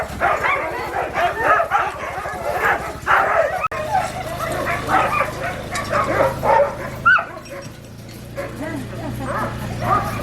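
Sled dogs getting ready for a run bark, yip and whimper excitedly in a dense, overlapping chorus, close by and continuous throughout, with a brief lull midway before the clamor resumes.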